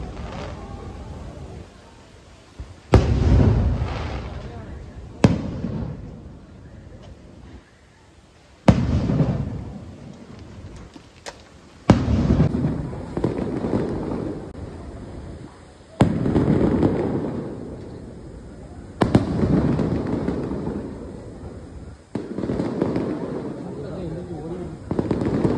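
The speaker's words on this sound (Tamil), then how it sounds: "அதுக்கப்புறம் பார்த்தீங்கன்னா ஃபயர் ஒர்க்ஸ் தான் நடக்க போகுது" Fireworks bursting at the Tutong Brunei Festival, a series of loud booming explosions arriving every few seconds and each trailing off into crackle, with crowd chatter and voices underneath.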